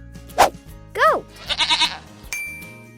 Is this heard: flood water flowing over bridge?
no